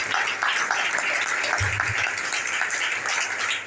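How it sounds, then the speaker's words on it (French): A congregation at an Easter church service breaks into dense, continuous applause and acclamation. The sound is a loud, unbroken wash of many hands that fills the room throughout, with a brief low thump partway through. "Bénissez ce Père par les acclamations, s'il vous plaît."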